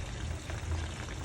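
Boiling water poured out of a pot while cooking pangat na saba, a steady continuous splashing pour lasting throughout, close and fairly loud with no talk.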